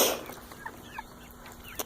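Chickens cluck softly and sporadically while pecking at scratch feed, with a few faint, brief calls over a quiet background.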